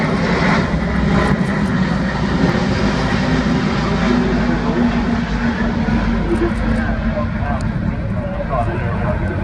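An Airbus A350-1000 airliner flies low over an airfield, its engines a loud, broad, continuous roar lasting throughout. Faint talk may sit underneath.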